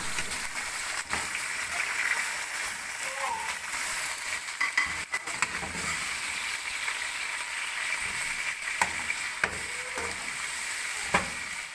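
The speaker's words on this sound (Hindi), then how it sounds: "अब हम इसमें चिकन डाल देंगे और इसे थोड़ी देर ब्राउन कर लेंगे" Chicken pieces browning in a pan with fried onions, a dense, even sizzle that continues throughout with small crackles and spatula clicks, no talking.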